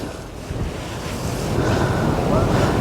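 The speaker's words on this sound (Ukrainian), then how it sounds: "Просто скажений вітер, скажений." Strong wind roars over crashing sea waves, a loud, continuous blustery rush that swells louder toward the end.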